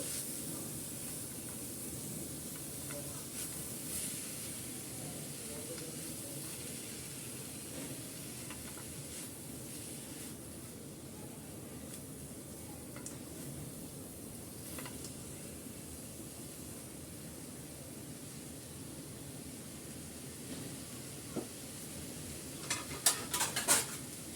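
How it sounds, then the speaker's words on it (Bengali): Green chilli filling being stirred in a pan gives off a steady low hiss of steam and soft scraping, quiet and continuous, with a few light clinks of the spoon near the end. "এখন ভালো করে আমি নেড়ে চেড়ে একটু সেদ্ধ করে নিচ্ছি"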